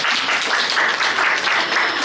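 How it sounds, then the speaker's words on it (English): Audience applause at an International Women's Day panel event, a brief, full burst of many hands clapping steadily and fairly loud for about two seconds. "A big round of applause for all of us."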